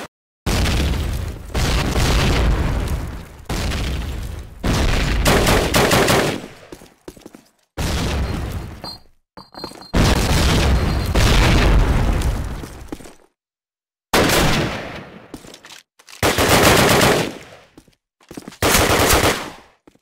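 Gunfire and a grenade blast from the first Call of Duty game, with loud bursts of rapid shots and booming detonations arriving in dense clusters separated by short silent gaps.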